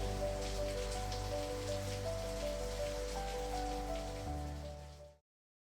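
Heavy rain pours steadily in Kolkata as a constant dense hiss, with sustained musical tones running underneath, and it fades out at the end.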